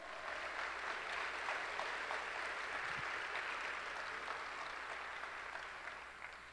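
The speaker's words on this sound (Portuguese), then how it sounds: "Quantos podem aplaudir ao Senhor?" A church congregation applauds in a continuous, even wash of clapping that holds for several seconds and eases slightly toward the end, with no voices on top.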